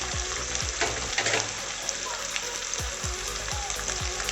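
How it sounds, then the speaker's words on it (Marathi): Tomato and diced potato land in a hot oiled pan for spiced rice, setting off a steady, close sizzle of frying with a few soft stirring scrapes and no talk. "त्याच्यानंतर याच्यामध्ये टोमॅटो ऍड करते, चौकोनी कापलेला बटाटा ऍड करते"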